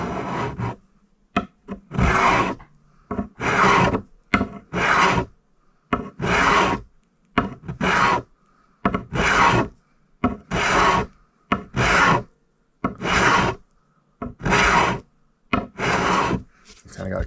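Rasp or file shaping and scalloping a wooden Stratocaster guitar neck, in steady repeated strokes of about one second each with short pauses between, close and loud, with no voices.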